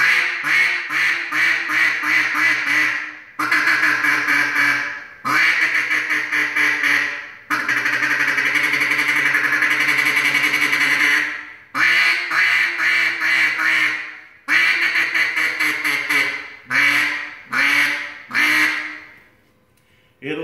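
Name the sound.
single reed duck call blown, imitating duck quacks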